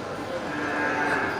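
A cow moos at a cattle market, one long sustained low call near and fairly loud, with ambient market noise beneath it.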